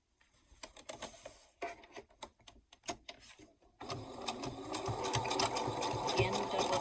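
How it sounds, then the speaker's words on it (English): Sewing machine double stitching back and forth along the top edge of a cut-and-sew fabric gift bag: short, broken bursts of whirring stitches at first, then a steady, close, continuous mechanical hum. "Again, double stitching that back and forth up at the top, reinforce that edge."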